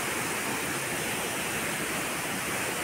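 Waterfall near Udayagiri pours in a dense, steady rushing roar, broadband and constant throughout with no pauses or voices.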